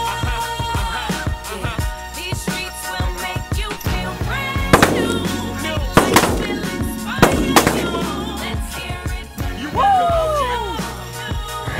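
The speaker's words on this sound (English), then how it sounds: "Nice shooting, boys." Shotgun blasts at an early-season guided goose hunt at Lac qui Parle, Minnesota: three loud, sharp reports spaced about a second apart, heard over a continuous music track.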